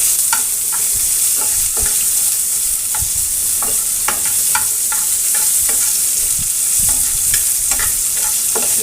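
Onions are stirred and fried in a pan, giving a loud, constant sizzle over the whole stretch, with regular spatula scrapes and taps marking each stir.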